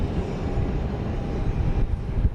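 Dallas Love Field at close range: a JSX jet arriving from Austin, heard as a broad, steady engine roar that holds loud and even throughout, with no talk.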